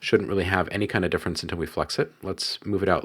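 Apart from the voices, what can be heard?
No everyday noise stands out behind the speech.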